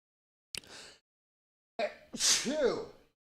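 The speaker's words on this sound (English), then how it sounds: "Oh, my first live stream sneeze" A single loud sneeze close to the microphone during a baseball play-by-play live stream, preceded by a sharp intake of breath and followed by a drawn-out vocal exhale.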